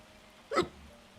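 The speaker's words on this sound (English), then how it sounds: "So love hiccups, they're great." A single short hiccup, close and fairly loud, sounds once in an otherwise quiet room.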